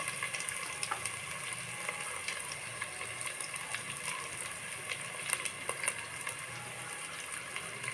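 Onion and garlic frying in a pan for tehari, a steady close crackling sizzle that carries on evenly, with a few sharper pops over the hiss.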